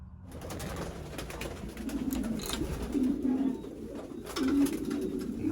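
Racing pigeons coo repeatedly in a loft the day before a 500-mile race, soft throaty rolling calls overlapping at close range amid a steady rustling background.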